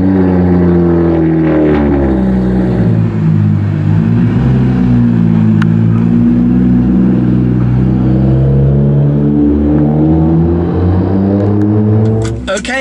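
A BMW 1M safety car's engine runs with a deep, loud idle close by, its pitch dipping and rising as it pulls away, a brief rattle near the end.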